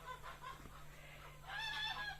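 Faint clucking of poultry close by, with a brief burst of louder honking calls toward the end over a low background hum.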